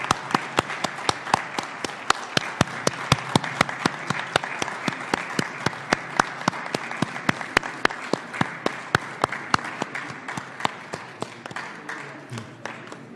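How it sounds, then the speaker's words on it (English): An audience at an official ceremony gives sustained applause, with a dense patter of many hands and sharp, evenly spaced claps driving a steady rhythm for over ten seconds without talk. "I think we must give them a round of applause and a standing ovation"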